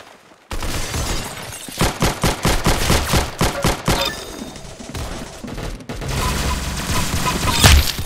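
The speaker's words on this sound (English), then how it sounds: "Very good shooting." Gunfire in the Roblox Arsenal video game, a loud run of rapid automatic shots in even bursts, with a clatter of mechanical and breaking effects and more sustained firing toward the end.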